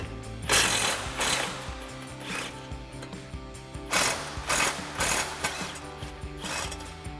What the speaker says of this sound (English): we're going to remove our two lower strut mounting nuts with our 18 millimeter socket